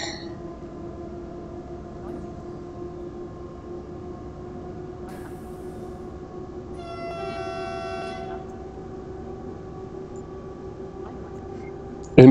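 REX1 train on the Südbahn in a railway simulator game, accelerating with a steady low mechanical drone and rumble, a tonal horn-like sound rising briefly partway through, no talking.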